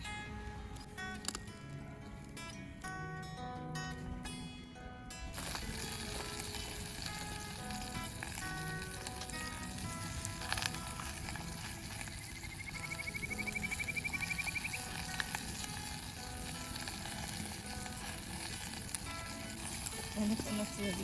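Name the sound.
zucchini grilling over a riverside campfire, sizzling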